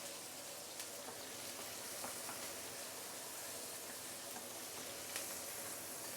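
Onion, tomato and curry leaves sizzle steadily in a hot pan while being stirred, a soft, even frying hiss with faint scrapes and no talking.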